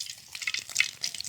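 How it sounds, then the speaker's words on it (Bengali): Rohu fish frying in pure mustard oil outdoors in a mustard field, a steady close crackling sizzle with brief louder spits, no voices. "একেবারে খাঁটি দেশি রাই সরিষার তেল দিয়ে এটাকে ভাজা হয়েছে।"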